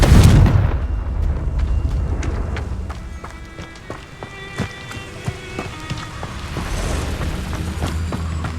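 The Confringo explosion spell in the video game Hogwarts Legacy, a loud boom at the start fading into crackling debris and light scattered impacts, with no talking.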